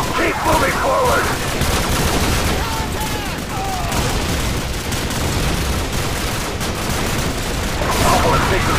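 Dense, continuous gunfire and explosions from the video game Call of Duty 4, loud and chaotic, with shouted voices under the battle.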